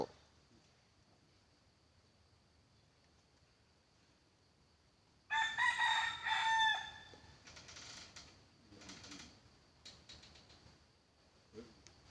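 After a quiet stretch, a junglefowl rooster crows loudly and nearby, followed by scattered clucks and rustling in an otherwise still setting.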